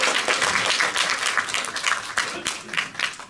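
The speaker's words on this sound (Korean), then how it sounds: "다시 한번 큰 박수 부탁드리겠습니다" A seated audience gives steady, dense applause at a formal speech-contest ceremony in a hall, the clapping sustained and fairly loud throughout with no pause.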